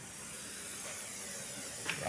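MIG welding gives off a steady, close hiss with a faint crackle that holds for about two seconds.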